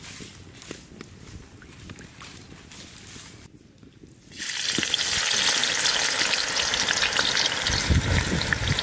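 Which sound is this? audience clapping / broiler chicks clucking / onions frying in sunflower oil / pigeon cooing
onions frying in sunflower oil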